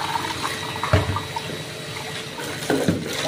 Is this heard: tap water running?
yes